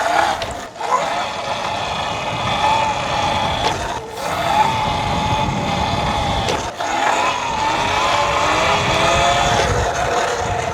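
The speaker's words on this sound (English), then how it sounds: "Hate that the bike's making a bad sound, chuggy and rough and whatnot." Electric motorbike riding out in high tropical-storm wind, its drivetrain running rough and chuggy with a suspected belt or jackshaft fault, engine-like drone and heavy wind rumble continuous and loud throughout, with brief dips.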